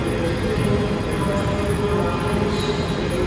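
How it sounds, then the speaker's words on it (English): A steady, broad rumble of rail traffic and station hum fills the space, constant and fairly loud with no voices. "We now are in the train station."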